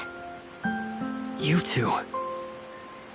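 Steady rainfall in the fantasy video game Tower of Fantasy, a soft hiss beneath a music-like tonal backdrop, with characters speaking briefly over it.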